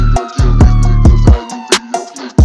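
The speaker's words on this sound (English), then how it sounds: "as well as this siren sound effect." A siren sound effect layered into a hip-hop track, a wailing tone riding over a loud, booming 808 bass and percussion hits.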